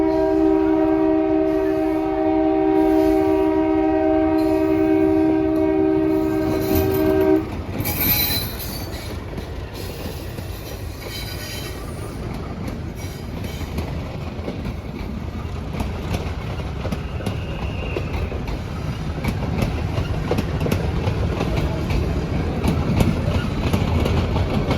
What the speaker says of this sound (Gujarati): આખા ગુજરાતમાં એક જ એવી ટ્રેન છે જે જંગલમાં થઈને હાલે. એ મીટર ગેજ છે.